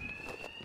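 A steady electronic alarm rings inside a building in the video game Batman: Arkham Knight, a single sustained tone that stays constant and fairly faint across the brief moment.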